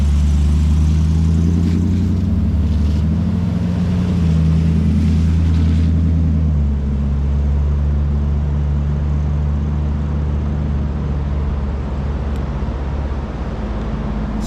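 Vintage V8 hot rods rumble along the beach at Pendine Sands during a hot rod event, a deep, steady engine drone that stays loud throughout, with a heavier note in the first few seconds before settling into a constant roar.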